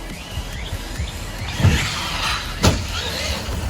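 A Traxxas Maxx RC truck on a 3S battery runs in a backyard, its electric motor whirring with two sharp, louder bursts of acceleration.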